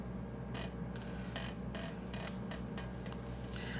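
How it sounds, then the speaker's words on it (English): A wooden table creaks and squeaks in a series of short, rhythmic scraping strokes over a steady low hum, faint and close, with no voices. "has this table been squeaking this entire time?"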